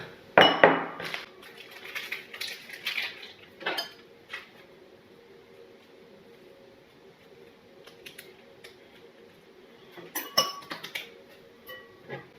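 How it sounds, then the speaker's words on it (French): Muffin batter of sugar, flour and baking powder is mixed in a bowl, giving clinking, scraping bursts of utensil against bowl that come in uneven clusters with quiet gaps between them, close by and without talk. "On mélange de nouveau."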